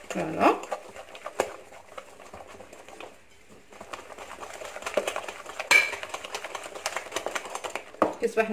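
A utensil stirs batter of sifted flour in a bowl for savory chicken mini cakes, giving a busy run of irregular clinks and scrapes, some sharp and close, while a voice talks over them.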